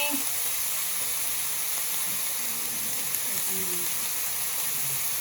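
Potatoes and eggplant fry in a pan, a steady, even sizzle that holds throughout, moderately loud and close, with faint voices murmuring underneath.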